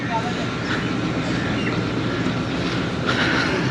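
The Ravi Express passenger train rumbles steadily on a branch line near Kamalia railway station, a continuous loud roar of rolling carriages with faint background voices.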